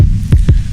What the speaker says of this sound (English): So next thing I did is add in tape distortion.